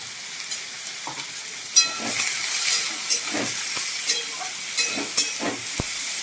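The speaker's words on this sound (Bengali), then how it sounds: "তো এটা আমি গ্যাস কমিয়ে কমিয়ে ভেজে নেব।" Pointed gourd frying in a little oil with salt and turmeric over low gas, a soft steady sizzle punctuated by repeated light stirring scrapes and one sharp clink near the end, no voices.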